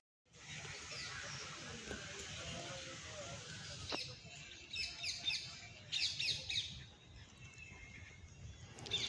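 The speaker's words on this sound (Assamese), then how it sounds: "ইমান ধুনীয়াকৈ চৰাই চি�ৰিকটিৰ মাত শুনি আছোঁ, খুব মনটো ভাল লাগিছে।" Birds in a botanical garden chirping and squawking in scattered bursts at a moderate distance over a steady outdoor hiss.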